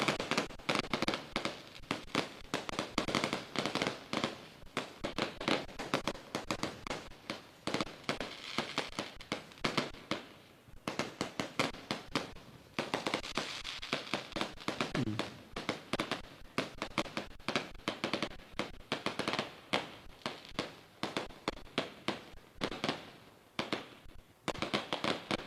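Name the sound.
firecrackers exploding at celebration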